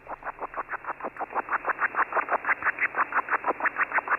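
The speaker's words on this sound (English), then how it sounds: "There was some noise that I found on 80 meters and 40 meters." Pulsing interference noise picked up on the 80 m ham radio band: a steady train of rhythmic buzzing pulses, several per second, strong and unbroken over a low hum, with no talk.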